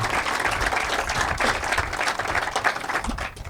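A crowd at a Colorado State soccer and softball groundbreaking ceremony applauds, producing dense, sustained clapping that stays fairly even and continuous throughout, heard alone without speech.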